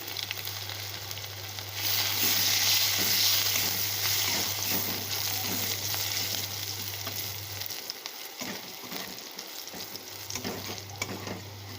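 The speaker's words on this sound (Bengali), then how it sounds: "রসুনটা ভাজা হয়ে গেছে" Steady sizzling of crushed garlic, dried chillies and cumin frying in hot oil, loud and close, with a low hum that cuts out briefly near the end.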